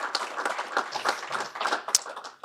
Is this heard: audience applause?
yes